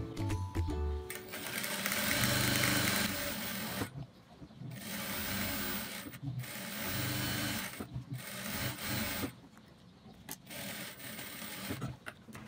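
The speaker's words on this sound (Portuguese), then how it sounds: "eu vou passar uma costura na volta toda, que é uma costura de segurança, bem na beiradinha" Sewing machine running a safety seam right along the edge of a quilted fabric piece with lining, motor whirring in long continuous bursts broken by short pauses, close and steady with no talk.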